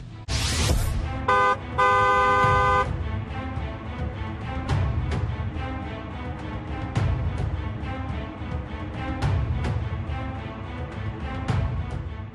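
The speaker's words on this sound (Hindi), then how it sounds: "इसलिए हॉर्न बजाना भी बहुत जरूरी है।" A vehicle horn honks in traffic, several loud toots including a long sustained blast, amid steady engine noise and road rumble nearby.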